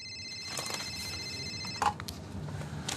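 A telephone rings with a steady electronic tone for an incoming telemarketing scam call about one-euro home insulation, sustained for over a second, then a faint click and quiet room noise.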